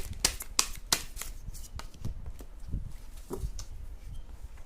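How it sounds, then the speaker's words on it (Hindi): Tarot cards being shuffled by hand, with three crisp riffling snaps at the start followed by softer, irregular card rustles and taps, close and without talk. "और भी निकालते हैं कार्ड्स"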